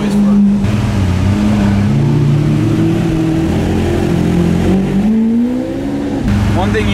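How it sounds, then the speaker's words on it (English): A Lamborghini Aventador cruises at low speed while its engine roars loudly and steadily, swelling and rising in pitch as it revs briefly, heard from close by. "you don't need to be going fast for this car to make crazy amounts of noise"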